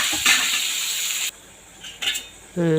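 Shallots, green chilies and tomatoes sautéing in a pan for a green chili chutney, with a broad, loud sizzle that drops off abruptly partway through, a few clinks of a utensil on the pan, then the sizzle returning.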